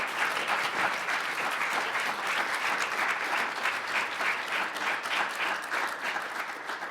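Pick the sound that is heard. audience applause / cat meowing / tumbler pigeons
audience applause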